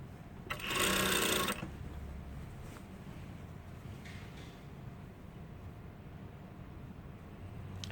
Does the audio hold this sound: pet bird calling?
no